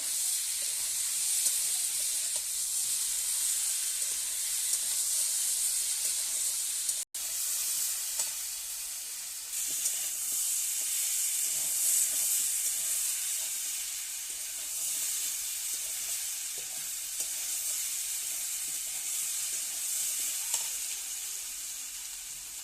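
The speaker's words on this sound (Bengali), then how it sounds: "এখন কষানো হচ্ছে" Mixed vegetables with egg sautéing in a pan, a loud continuous sizzle and hiss with intermittent stirring scrapes, close up and steady, with one brief sharp click partway through.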